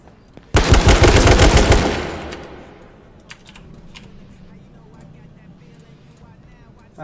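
A loud, close burst of rapid automatic gunshots in the battle royale video game H1Z1 lasts about a second and a half, then fades to quiet keyboard clicks and faint game noise while someone talks.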